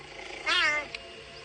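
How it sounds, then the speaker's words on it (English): A single short, high meow from a small animal, faint and close, rising then falling over about half a second, with quiet background around it. "Little meows."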